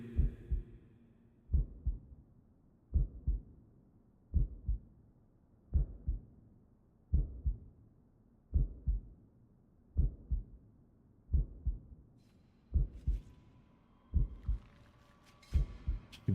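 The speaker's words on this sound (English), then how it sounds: "I hear heartbeat." Slow, steady heartbeat in the horror game Paranormasight, a dozen muffled low double thumps at a regular rhythm, joined near the end by faint higher game tones.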